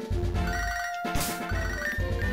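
Chirpy electronic phone ring from Pokemon Soul Silver, repeating bursts in a quick pattern with a brief gap, loud and up front over the game's background music, no one speaking.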